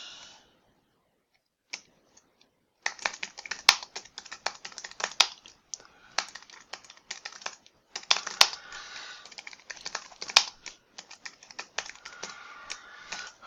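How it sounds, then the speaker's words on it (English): Rapid clicking of keys on a computer keyboard, in irregular bursts after a brief quiet start, close and fairly soft, with no voices. "we can start typing our question"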